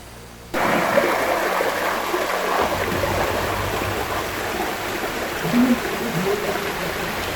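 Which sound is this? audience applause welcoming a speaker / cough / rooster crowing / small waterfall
small waterfall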